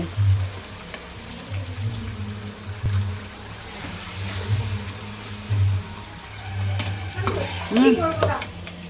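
Chicken sizzles and crackles in a hot wok for biryani, a steady low frying hiss with scattered pops and a brief stir near the end, fairly close and alone.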